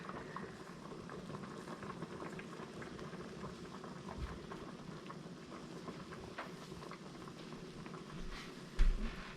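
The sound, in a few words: squirrel dumplings simmering in a pot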